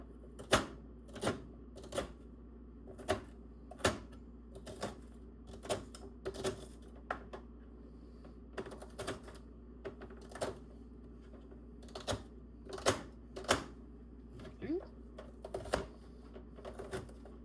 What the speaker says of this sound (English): I'm cutting them into bite-sized pieces.